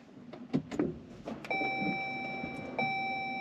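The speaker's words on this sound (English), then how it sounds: "I'm gonna go ahead and start up the car with the normal push button start" A Chrysler Pacifica plug-in hybrid minivan powers on by push button: a few clicks and knocks, then a steady electronic chime tone and a soft hum as the systems wake, with no engine cranking.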